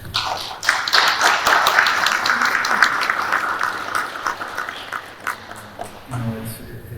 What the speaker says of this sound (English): I just want to give a big yally and a round of applause to Dr. Johnson